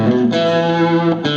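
Distorted rock electric guitar repeating a short vibrato lick at a quicker pace, notes changing rapidly before a held wavering tone, loud and near with effects, no voices.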